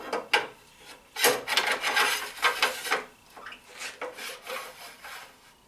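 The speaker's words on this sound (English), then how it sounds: "Here you can see I'm inserting the Wolverine sharpening jig." A Wolverine sharpening jig is slid into place on a grinder to sharpen a roughing gouge, giving close, dry rasping scrapes and rubbing knocks in uneven bursts, with no talk.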